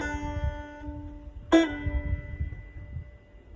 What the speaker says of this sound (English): On pull-off, I start with my finger on a string and then I pull it off while I'm still playing